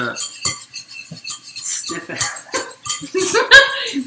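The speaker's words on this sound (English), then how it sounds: "Whisk the eggs white until stiff" Egg whites being whisked until stiff, the whisk clinking rapidly and irregularly against the bowl close up, with people talking over it throughout.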